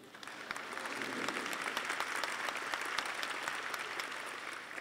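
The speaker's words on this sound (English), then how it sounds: "you're allowed to applaud for Dale" Applause from an audience of educators at a summit, steady and moderately distant, filling the room evenly without any talk over it.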